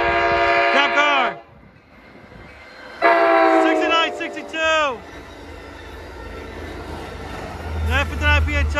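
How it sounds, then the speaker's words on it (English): Amtrak San Joaquin passenger train 716, southbound to Bakersfield, passing close by with loud repeated horn blasts in a pattern of long and short notes, a rumbling rail roar between them and a final horn sounding as it goes. "here comes San Joaquin train 716"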